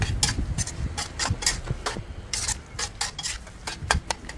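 Pork belly is stir-fried with Thai eggplant and basil in a pan, with a spatula scraping and clacking against the metal in a quick, irregular rhythm over a low background hum.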